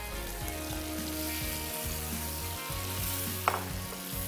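Food sautés in a pan with a steady, moderate sizzle, broken by occasional soft stirring sounds and a brief clink.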